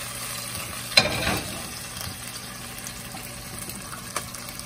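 Garlic and red pepper flakes frying in oil for a spicy garlic oil, with a sharp sizzle flare and a stirring scrape near the start that settle into a steady, moderate crackle.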